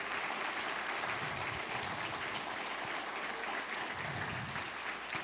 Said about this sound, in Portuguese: você vai dar uma salva de palmas e vai glorificar a Deus.